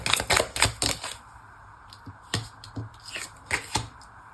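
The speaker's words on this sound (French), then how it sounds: "Je tire les cartes" Tarot cards are shuffled and drawn by hand, close up: a rapid burst of riffling snaps, then a pause and a few separate crisp slaps and flicks as cards are laid down.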